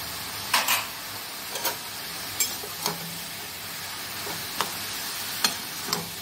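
Bottle gourd curry being stirred in a pan with salt, turmeric and green chilli, a quiet simmer punctuated by several spaced spoon knocks and scrapes against the pan.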